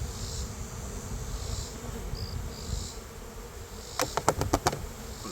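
A soft, steady buzz of honey bees hums throughout, with a quick run of sharp taps near the end.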